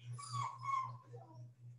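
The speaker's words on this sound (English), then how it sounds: "We just got a puppy" A very small young puppy whimpering faintly and close, a few thin rising and falling whines over a low steady hum.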